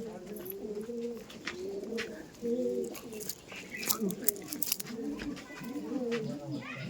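Several Andhra pigeons coo nearby in repeated soft, throaty bursts, overlapping one another, with someone talking and other light bird sounds in the background.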